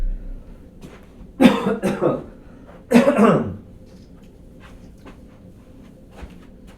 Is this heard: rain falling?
no